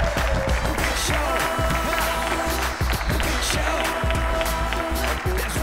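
An audience claps and cheers to welcome a guest onto the stage of a Hindi TV talk show, with steady loud applause under music, and thumping beats recurring throughout.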